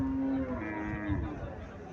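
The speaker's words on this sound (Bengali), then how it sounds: "এখানে আরো একটা হোলিস্টাইন ফ্রিজিয়ান জাতের গাভি দেখা যাইতেছে।" At a Comilla cattle market, a Holstein Friesian cow gives a moderate moo that starts strong and fades over the first half, then trails off into a murmur of market chatter.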